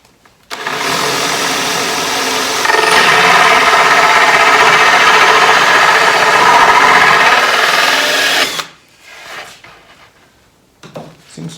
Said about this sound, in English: But I'll use the hole saw and be in about 1/2 inch from the edge. And then we can use the jigsaw